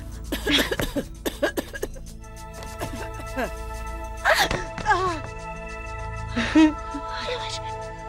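Several sharp coughs burst out in short clusters, close and fairly loud, between quieter stretches of breathy voice.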